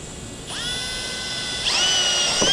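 A power drill whirs up to speed while drilling a hole in a Can-Am Maverick X3 four-door, runs briefly, then revs higher with a rising whine before cutting off, close and fairly loud.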